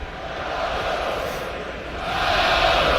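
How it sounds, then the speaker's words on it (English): A college football stadium crowd roars before the coin toss in a Rutgers versus Ohio State game, a broad, distant wash of cheering that swells louder toward the end. "you can hear the crowd coming to life"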